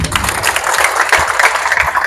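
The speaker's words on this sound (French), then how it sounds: "Applaudissez pour eux." A ceremony audience celebrating women's academic excellence bursts into loud, dense applause, clapping hands blurring into a continuous roar that stays close and steady throughout.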